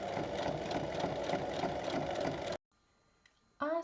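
A sewing machine stitches a bag lining seam with a rapid, buzzing run that stops abruptly, leaving near silence before a voice briefly begins at the end.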